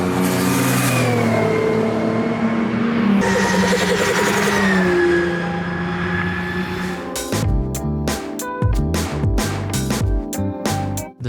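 An 1100-horsepower Nissan GT-R time attack car at a Donington Park track day, its engine droning loudly and steadily, then breaking into sharp, stuttering revs and pops near the end.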